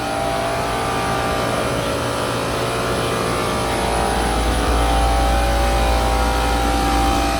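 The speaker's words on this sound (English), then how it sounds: "That is the generator right there." A loud, steady mechanical drone of a generator in the engine room of a 118-foot Millennium superyacht hums nearby with a deep low rumble that grows heavier partway through, constant and unbroken.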